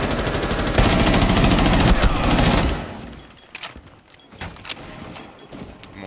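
Rapid gunfire in Rainbow Six Siege on the Chalet map: a dense, loud stream of automatic shots for a few seconds, then scattered single cracks and thuds at a lower level.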